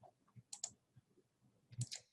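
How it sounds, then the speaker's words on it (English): Quiet keyboard typing as a birth date is entered into an online college application form: a few scattered light clicks and taps with short gaps between them. "I'm just going to type mine in here."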